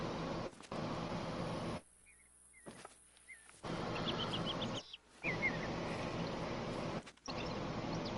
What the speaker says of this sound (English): good lord, are the birds loud in this game?